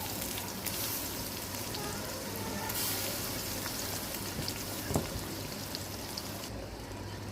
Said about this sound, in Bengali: আদা রসুন বাটা দিয়ে ভালো করে ভেজে নিব